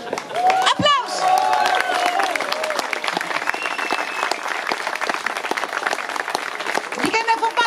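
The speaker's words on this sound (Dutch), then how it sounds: "Applaus!" Crowd applause and cheering at a music festival, steady clapping mixed with whistles and shouts, with voices calling out over the din near the start and end.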